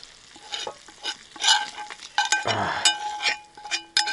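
A utensil scrapes and stirs lard and pasta in a sizzling pan, with intermittent clanks and a steady crackle of frying.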